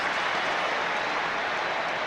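Large rugby stadium crowd at a 1999 Rugby World Cup match between England and Tonga roaring after an England try, a dense, steady wash of cheering and applause holding loud and unbroken throughout.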